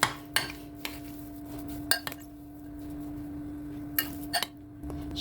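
A spoon stirs a turmeric and ginger spice mix in a bowl, giving several sharp clinks and taps against the bowl's side at irregular intervals over a faint steady hum, quiet and close.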